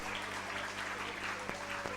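An audience applauds outstanding students at a school awards ceremony, dense steady clapping heard from a distance and fairly faint throughout.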